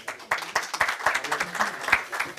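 Audience applause at a poetry gathering in Raynes Park, a burst of many hands clapping that starts sharply and continues steadily and fairly loud, with no talking over it.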